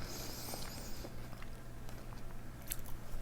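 Someone bites and chews a fresh salsa of tangerine, mango, avocado and crunchy onion, close up: soft, repeated crunches and wet chewing over a steady low background hum, with no speech.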